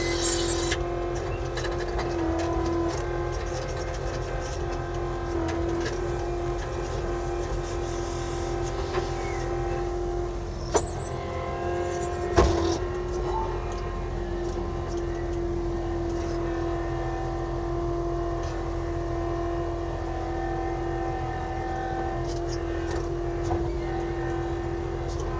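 An Avant compact loader engine running steadily during gravel removal at a construction site, a constant droning hum with faint clanks now and then and no talking.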